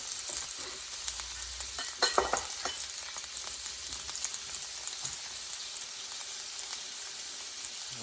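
Garlic sizzles in hot oil in a stir-fry pan with meat, giving a steady close crackle and hiss. Brief stirring scrapes and clatter come near the two-second mark, and nobody speaks.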